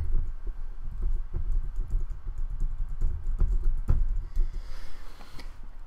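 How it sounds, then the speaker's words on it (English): Fast, steady typing on a computer keyboard, dense close key clicks in an unbroken run that thin out near the end. "So I will type in"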